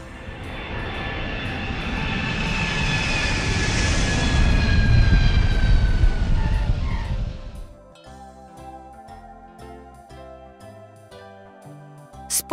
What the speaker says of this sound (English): Army airplane.